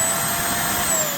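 A JPHYLL mattress bed vacuum cleaner with UV-C lamp runs close by, a steady, loud motor whine and airy suction roar with a thin high tone as its brush spins briefly, with no talking.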